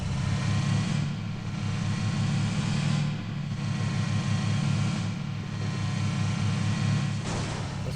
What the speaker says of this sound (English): New vehicle sounds.